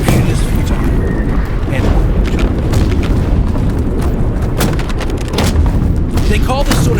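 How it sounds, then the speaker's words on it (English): WW1 artillery drum fire in a VR game: a dense, continuous roar of rapid shelling with repeated booms and sharp cracks, loud and unbroken throughout, with a voice talking over it. "They call this sort of shelling drum fire, and that's because the ordnance is hitting so rapidly that it sounds like a drum roll"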